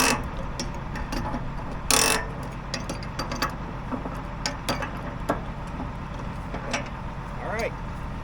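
A socket wrench ratchets on a big bolt, with scattered clicking and clanking of metal on metal, close by over a steady low engine rumble; a sharp clatter sounds near the start.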